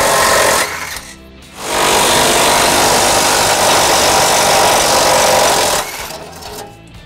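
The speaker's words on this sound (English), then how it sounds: "we're going to use a 17mm socket to remove them" A power tool with a 17mm socket removes the tow hook bolts on a 2004 Acura MDX. It gives a short loud burst, then a long sustained, close, rattling mechanical run that tapers off.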